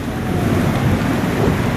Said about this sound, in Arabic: أمطار، أمطار بعواصف